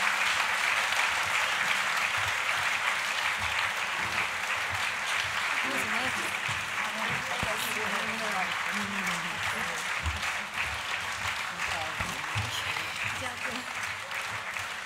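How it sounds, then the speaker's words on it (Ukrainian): A concert hall audience at a philharmonic folk-pop program claps steadily and densely throughout, a broad sustained wash of applause with a host speaking over it. "Підтримуємо, підтримуємо оплесками."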